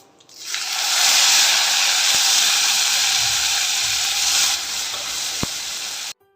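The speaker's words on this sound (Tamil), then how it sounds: "உளுத்தம்பருப்பு வரமிளகாய் சுண்டலை சேர்த்துருவோம் கருவேப்பிலையும் சேர்த்துருங்க" Urad dal, dried red chillies and curry leaves hit hot oil in a pan, giving a loud, steady sizzle that swells after a moment and runs unbroken for several seconds before stopping abruptly.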